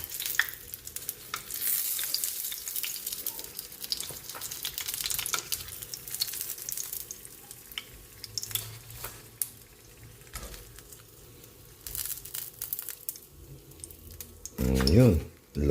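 Lumpiang toge (bean sprout spring rolls) crackle and sizzle in hot oil while being stirred and turned in a pan, with scraping clatters and irregular bursts of frying over an ongoing voice.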